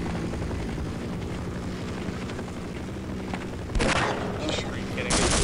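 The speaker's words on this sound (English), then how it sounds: "This helicopter is really freaking annoying me." Dense, continuous mechanical rumble of an Apache helicopter's rotor drone in the video game Half-Life, loud and steady, with bursts of gunfire-like blasts breaking in near the end.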